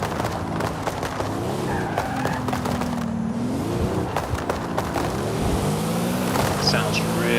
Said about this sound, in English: Love the turbo sound on this thing.